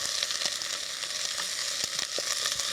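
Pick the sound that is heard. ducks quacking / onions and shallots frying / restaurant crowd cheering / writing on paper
onions and shallots frying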